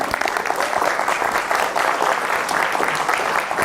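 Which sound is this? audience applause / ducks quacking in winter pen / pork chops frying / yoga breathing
audience applause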